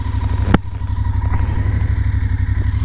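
A motorcycle rides a Norwegian TET trail. Its engine holds a steady, loud, close drone, with one sharp clack near the start and a rising rush of wind partway through.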